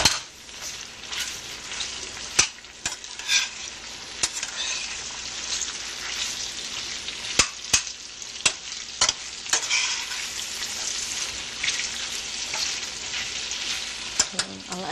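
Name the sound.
stirring and sautéing imitation lobster in a pan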